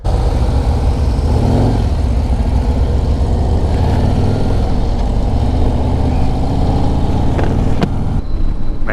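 A 2024 Harley-Davidson Road Glide 117 motorcycle engine rumbling steadily while riding, with loud, close low-end drone and wind noise throughout.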